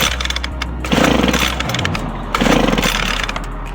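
A Homelite 26b chainsaw is pulled over in attempts to restart it, giving two loud, rough bursts of mechanical cranking over a low, steady rumble close by.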